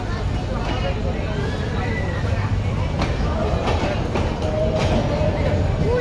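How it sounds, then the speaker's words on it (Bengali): Modhumoti Express passenger train running through Kushtia station at night, a steady loud rumble of wheels on rail with clanks and squeal throughout, under crowd babble and people talking on the platform. "ট্রেন চলে যাচ্ছে।"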